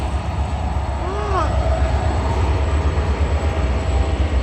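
Freight train led by locomotive 66728 passing through Doncaster station on the East Coast Main Line, a loud continuous rumble with a brief wheel squeal, close by and sustained.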